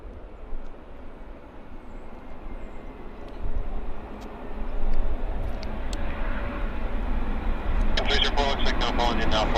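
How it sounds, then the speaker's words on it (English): A Horizon Embraer 175 jet comes in to land at Vancouver airport, a broad engine roar building from moderate to loud and holding steady as it nears, with a brighter hiss rising toward the end. "it's an Embraer 175 about to grease it down for us right there."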